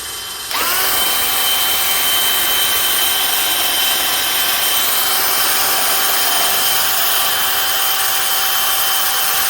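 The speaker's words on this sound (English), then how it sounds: "that's how fast you can lift your motorcycle in the air" A sudden mechanical whine starts and holds steady, a loud continuous motor hum as a Big Blue EazyRizer motorcycle lift raises a Honda Gold Wing, no speech.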